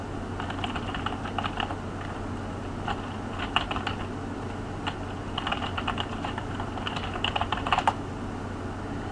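Steady keyboard typing on a computer, clattering in irregular bursts of keystrokes against a constant hum of room noise, with no talking.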